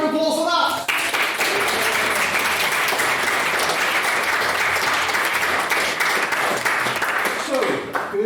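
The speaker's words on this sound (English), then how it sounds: "Let's round of applause for that." An audience breaks into loud, sustained applause after a debate vote, dense clapping filling the room for several seconds after a brief voice at the start.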